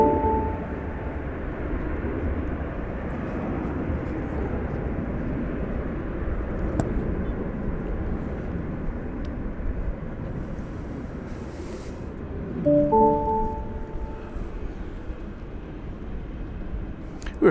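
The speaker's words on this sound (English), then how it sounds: "So there's the American flight from Portland. Touching down." An American Airlines jet from Portland touches down at DFW Airport at night, a low, steady rumble under wind buffeting the microphone, fairly faint and distant, no talk.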